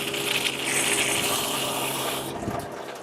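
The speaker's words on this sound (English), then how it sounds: "go ahead and use the hose and fill it up real quick" Water from a garden hose gushes into the radiator of a 1999-2004 Jeep Grand Cherokee, a steady close-up hissing pour with a faint mechanical hum, abruptly cutting off near the end.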